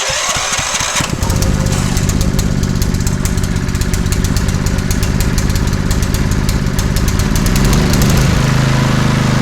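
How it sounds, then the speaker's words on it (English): A small Honda GX160 petrol engine on a generator is pulled into life after a brief rattle, then runs steadily and loudly close by with a busy, buzzing chug. "Right, so let's start this engine again."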